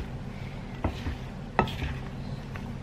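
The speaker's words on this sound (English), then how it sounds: "We will mix everything up" Potatoes and onions being tossed and stirred with olive oil in a bowl or pan, giving soft scraping, rustling strokes with a couple of sharper utensil knocks, close and quiet against steady background noise.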